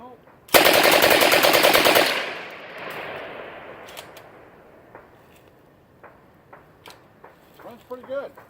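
A post-dealer sample machine gun rips off one loud, rapid burst lasting about a second and a half, then the report echoes and fades across open ground, followed by faint scattered ticks and knocks.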